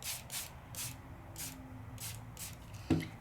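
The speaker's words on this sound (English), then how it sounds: "That's it, just some straight water in my turbo mister." Short bursts of straight water from a turbo mister spraying onto scribbled ink in a papercraft session, about six quick, soft hisses at a steady rhythm, close and fairly quiet, followed by a small knock near the end.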